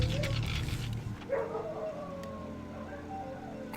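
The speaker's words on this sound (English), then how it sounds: "My dogs are like howling like shit" Dogs howl and whimper in long, wavering tones at a distance, fairly faint under a low background hum.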